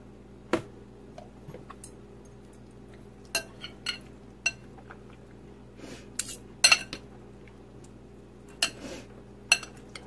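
Utensils mix food in a dish with mustard, onions and peppers, producing sparse, sharp clinks and taps at irregular intervals against a quiet background hum.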